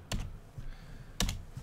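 Two quick bursts of keystrokes on a computer keyboard, each a pair of close clicks about a second apart, crisp and near with faint softer taps between.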